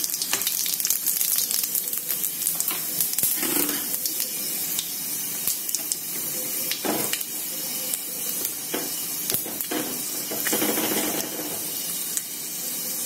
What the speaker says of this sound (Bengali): তেলটা কিন্তু ভালো করে গরম হয়ে গেছে দিয়ে দিচ্ছি পাঁচ ফোড়ন